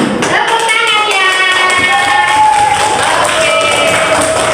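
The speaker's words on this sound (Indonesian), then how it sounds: "Ya, tepuk tangan ya." A classroom of schoolchildren at an Islamic primary school (MI) bursts into loud, steady group applause with cheering voices, a dense continuous clatter of clapping hands filling the room for several seconds.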